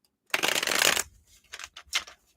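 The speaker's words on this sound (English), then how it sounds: "Let's shuffle up here." A deck of cards shuffled for a tarot-style reading: one long dense riffle burst, then two or three shorter flicks and riffles as the deck is squared, close and fairly loud with no talking.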